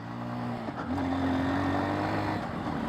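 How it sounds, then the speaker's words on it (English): A Honda XR150L motorcycle engine riding off-road, a steady close engine drone whose pitch drops and then holds as the rider downshifts, with no talking. "Let me downshift a bit here."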